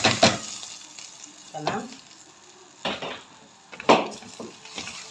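Washed rice tipped into a pot of frying vermicelli, heard as a few sharp sizzling bursts and stirring scrapes with quiet frying between them and a brief spoken word.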